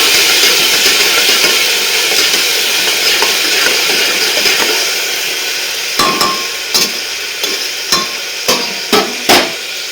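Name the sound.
stirring a spice mixture for pea rice in a pan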